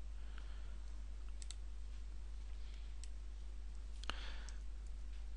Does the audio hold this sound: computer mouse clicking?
yes